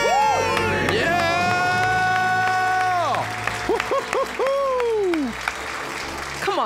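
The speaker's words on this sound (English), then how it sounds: "Let's hear a debt-free scream." A studio audience shouts and cheers in a loud, sustained burst. Rising and falling whoops and screams overlap, then fade into scattered voices and claps.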